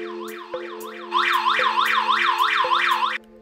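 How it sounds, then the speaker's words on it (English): A PNI SafeHouse HS110 wireless gas sensor sounds its alarm: a loud, repeating electronic warble that sweeps up and down in quick cycles, with a steady tone underneath and a short pause early on before it continues strongly and then cuts off. "the detector emits an alarm sound"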